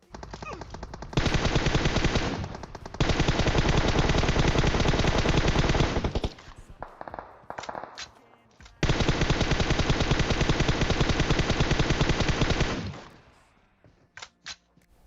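Loud automatic gunfire in the mobile battle game PUBG Mobile, two long sustained bursts separated by a few scattered single shots, close and harsh.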